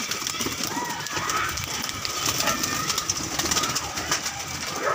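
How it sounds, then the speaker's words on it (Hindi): Breeder pigeons shut inside a loft coo softly and steadily, with some rustling and faint bird calls in the background and nearby human sounds mixed in. "ये कुछ नायाब कबूतर है मेरे"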